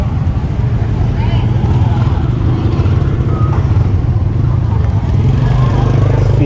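Motorbikes running on a busy street in Hoi An, Vietnam, a steady close engine drone with low rumble throughout, mixed with street background noise.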